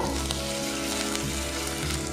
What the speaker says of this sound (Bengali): আদা রসুন পেস্ট আমি পেঁয়াজের সাথে ভালো করে ভেজে নেব।